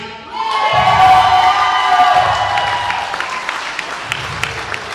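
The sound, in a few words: crowd cheering at a wrestling show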